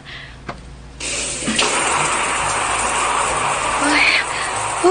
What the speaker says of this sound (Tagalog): Mag-shower na ko.